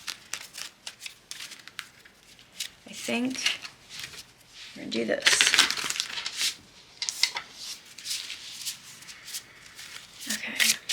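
Tarot cards are shuffled by hand in repeated crisp riffles and papery slides, close and fairly loud, with a person talking between and over the bursts.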